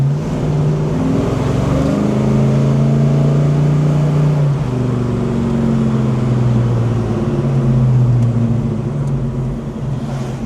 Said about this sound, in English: And it will spin the tires.